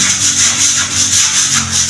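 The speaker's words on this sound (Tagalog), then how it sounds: "Liliha tayo ng pinasilya kahapon" Steady, close-up scratchy rubbing of hand sanding wood putty, continuous and loud with a gently pulsing back-and-forth rhythm.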